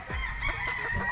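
A Boston Dome yellow-legged gamefowl rooster crows once up close, a loud, harsh, drawn-out call that fills the short moment with no talking over it.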